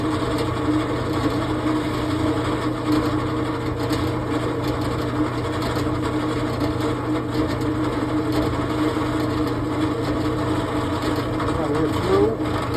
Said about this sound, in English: It's aluminum, so it drills very easily